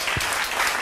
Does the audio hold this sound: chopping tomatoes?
no